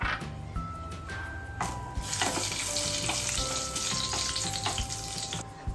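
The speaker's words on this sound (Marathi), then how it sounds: "तेल छान तापले आता आपण त्यामध्ये खडे मसाले घालूया" Whole spices sizzling and crackling in hot oil for chole, a close, steady frying hiss with stirring scrapes and thin whistling tones throughout.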